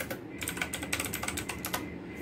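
Rapid typing on a computer keyboard, a quick irregular run of close, crisp key clicks and taps at moderate volume, with no talking over it.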